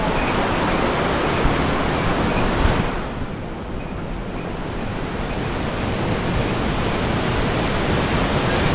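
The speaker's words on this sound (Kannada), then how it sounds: "ಜಲಪಾತ." A mountain waterfall near Yamunotri in Uttarakhand roars as a dense, constant broadband rush of falling water, loud and unbroken for the whole stretch.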